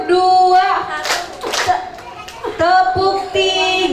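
Children clap hands together in a rhythmic counting game during a kindergarten religious arts performance, with sharp claps mixed among sung and spoken children's voices in a lively indoor setting.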